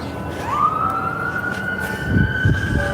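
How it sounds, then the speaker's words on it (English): A police siren rises quickly and then holds a steady wail, joined by low engine rumble and traffic noise, in Denver. "Lights on, sirens running"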